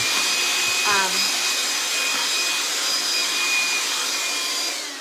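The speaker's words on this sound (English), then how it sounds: "I'm just going to vacuum up my" A vacuum cleaner sucks up dust from a smooth, freshly sanded craft heart, a loud continuous whine with a steady high tone that tapers slightly at the end.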